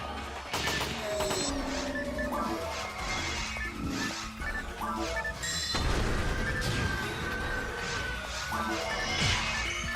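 Heavy video game gunfire fills the whole stretch, a dense, continuous barrage of shots and crashing impacts at steady high loudness, with no break.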